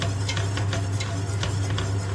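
A spoon scrapes and taps repeatedly against a large metal pot of Turkish chicken soup in an irregular stirring rhythm, close up, over a steady low hum.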